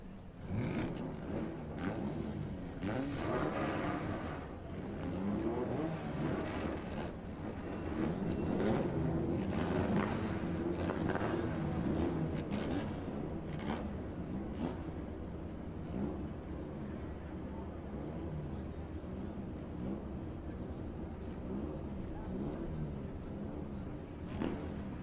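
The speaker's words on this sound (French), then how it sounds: "Pilote, pilote, pilote, pilote, démarrez vos moteurs!" Formula Tour 1600 race cars fire up on the starting grid at the Grand Prix de Trois-Rivières, a thick layered roar and rumble of several engines sustained throughout, swelling midway then settling to a steady idle.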